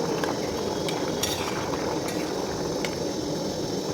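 Potatoes and taro simmer in a pot, giving a steady close bubbling hiss with a few light clinks of a utensil as the pot is checked.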